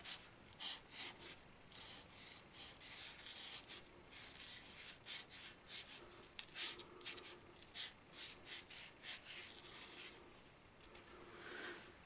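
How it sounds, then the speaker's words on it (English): A white Posca paint marker writes across a card, giving a steady, close scratchy rubbing with short strokes and brief pauses, and nobody speaks. "I'm just simply going to write my Valentine, and I'm using a white Posca marker."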